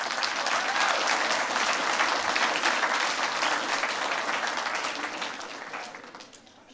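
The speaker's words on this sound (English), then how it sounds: "give them a round of applause" Sustained, dense applause from an audience at the Northern Rivers Screen Futures Expo 2021, steady and full for several seconds before tapering off near the end.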